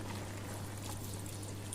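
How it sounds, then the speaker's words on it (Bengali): Water is poured from above into a kadai of simmering prawn and ridge gourd curry, a soft, steady trickle lasting under two seconds with a faint low hum beneath it. "এবার আমি অল্প জল দেবো"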